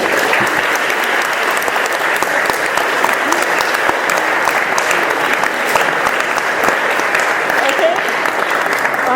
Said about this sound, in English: Please, a warm round of applause for France